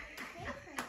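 A young boy claps his hands, with two quick, soft claps under nearby chatter.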